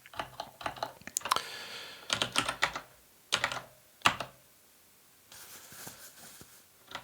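Bursts of keystrokes on a computer keyboard while coding in a terminal, clustered quick clicks with short pauses between groups, close and clear with no talking.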